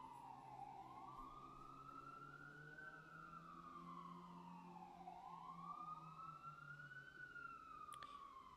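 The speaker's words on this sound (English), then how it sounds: "After this siren passes." An emergency vehicle siren wails in slow rising and falling sweeps as it passes, fairly faint and distant with steady traffic noise underneath and no talking.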